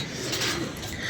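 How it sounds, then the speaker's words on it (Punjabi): Pigeons kept at a loft give a single soft, rounded coo up close, with faint background hiss. "ਕਬੂਤਰ ਖੋਲ ਦਿੰਦੇ ਆ ਤਾਂ ਕਿ ਇਹ ਉੱਤੇ ਥੱਲੇ ਹੁੰਦੇ ਰਹਿਣ ਆਪਣੀ ਮਰਜ਼ੀ ਨਾਲ।"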